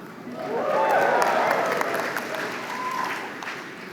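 A university convocation audience breaks into applause and cheering, a dense wash of clapping that swells quickly and then gradually fades.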